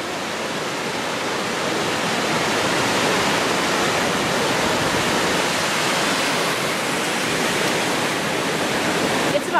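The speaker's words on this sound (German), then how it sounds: "Und guck mal, da ist auch so dieser Wasserfall" Waterfall in the Black Forest, a loud, steady broadband rush of falling water heard from a bridge, continuous throughout with no talk.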